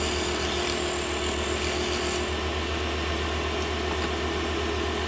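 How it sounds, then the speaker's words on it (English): A round nose scraper cuts into the curve of a small wooden Christmas tree ornament on a spinning wood lathe, giving a steady, close, continuous rasping whir with no pauses. "Now just a little round nose scraper. To get into that curve."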